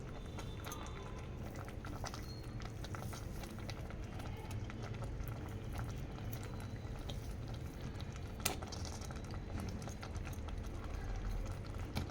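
Jaggery and softened cooked rice bubble in a pot for a sweet rice pudding, giving an even, low simmering burble that stays constant and fairly quiet for the whole stretch.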